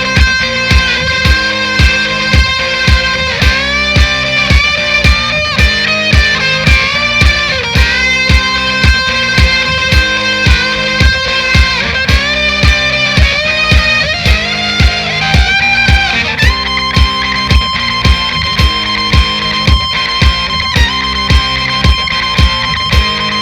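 A Stratocaster electric guitar plays a riff, loud and close, with a driving, evenly repeated strummed chord pattern that shifts into a higher sustained passage near the end.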